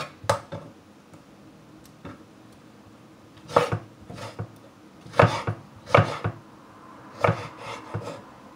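A knife chops crisp fried pork crackling (chicharrón) into small pieces on a cutting board, with sharp irregular knocks in scattered bursts, close and clear against a quiet kitchen.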